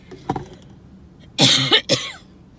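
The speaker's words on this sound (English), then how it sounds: "I got a cough, guys." A single harsh cough bursts out loudly at close range, followed by a second rough cough, with a brief throat sound just before.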